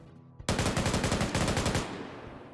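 A video game automatic weapon fires a rapid burst of about a dozen sharp shots, loud and close, then a short echoing tail fades out.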